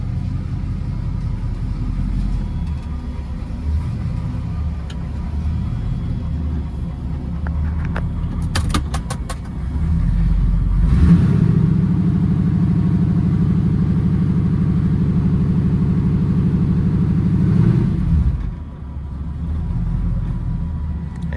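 A Chevrolet Camaro's engine rumbles steadily, then swells louder and fuller as it is put in gear and pulls away, holding a deep drone before easing back down, with no talk over it.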